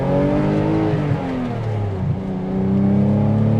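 A 1985 BMW M635CSi engine revs hard, its loud tone climbing and dipping through gear changes with a rising, toppy note, close up and without talk.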